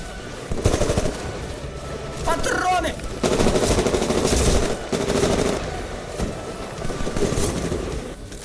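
Rapid automatic gunfire from the Titanfall shooter game rattles in dense, loud bursts across the whole stretch, mixed with other in-game combat noise and a voice at times.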